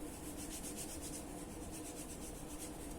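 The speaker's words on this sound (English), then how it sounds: "Make sure you rub it very well and cover all the surfaces" A towel rubbing polish onto the plastic trim of a 1995 Yamaha FZR 1000 Exup motorcycle, soft, faint rhythmic strokes of cloth scrubbing back and forth in even repeated passes.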